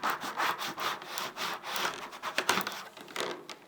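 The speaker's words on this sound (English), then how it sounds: "then just burnish it down again" Clear transfer tape being burnished onto adhesive vinyl, a rapid rhythmic rasping scrape of a tool pushed back and forth over the film, close and continuous.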